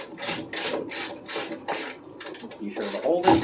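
Hand wrench ratcheting a 14 mm nut off the top of a strut during front end teardown of a Honda EG Civic, a run of rhythmic rasping clicks in bursts, close up.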